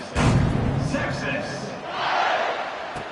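A home crowd cheers in a football video game: a broad, sustained roar rises and swells across the stadium, with a commentator talking over it.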